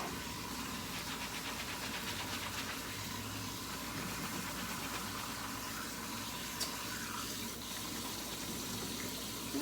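Tap water running steadily while a lace frontal wig is rinsed in a sink, a faint continuous splashing flow with a low background hum, no voices.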